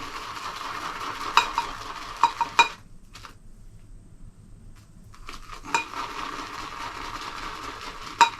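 A shaving brush whips soap into lather in a bumpy-textured bowl, a close, wet, frothy swishing with light clinks against the bowl, pausing briefly in the middle before resuming.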